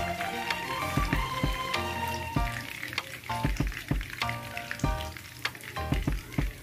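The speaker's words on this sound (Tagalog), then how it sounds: "hindi po natin pinupuno yung chicken natin sa kawali para hindi po sila mag-agawan ng yung init para mabilis mapaluto yung chicken" Chicken breast fillets fry in a pan with a steady close sizzle, broken by frequent sharp pops and spatters of hot oil, and no one talks over the frying.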